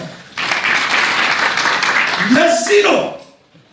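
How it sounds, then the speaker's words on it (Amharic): Loud, dense clapping from a church congregation fills most of the clip, with a few voices calling out over it before it fades near the end. "አጨብጭቡ ለጌታ"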